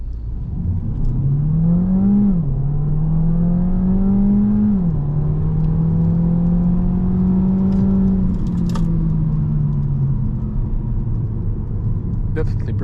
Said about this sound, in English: Hold brake, throttle all the way.